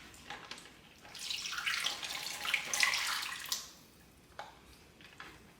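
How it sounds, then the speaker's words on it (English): Chicken marinade pours into a Ziploc bag, a liquid gush of about two and a half seconds that swells and then stops, followed by a few faint drips and plastic rustles. "take the marinade, which I also did double, so it's more than you'll have if you just use the single recipe, and you're gonna pour it into the Ziploc bag."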